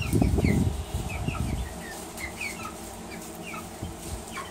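Chickens pecking at watermelon rinds, clucking softly near and far with a burst of wing flapping and scuffling at the start, then scattered quiet clucks over low background noise.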